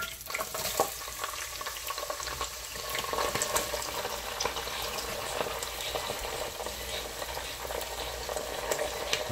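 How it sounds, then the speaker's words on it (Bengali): Onions frying in hot oil in a pan for a beef liver and chana dal dish, a steady dense sizzle with crackling and stirring scrapes running continuously and fairly close throughout. "তো তেলটা গরম হয়ে গেছে, তো আমরা এখন পেঁয়াজগুলা দেব।"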